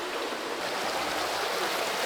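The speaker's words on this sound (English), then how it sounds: "We took in the sound of running water and the fresh, earthy, mossy smell." A stream runs through a mossy ravine at Puck's Glen in Scotland, giving a steady, close rushing and burbling of water that continues evenly without pause.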